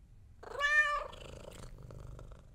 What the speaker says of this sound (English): Hey, I didn't know I had a kitty.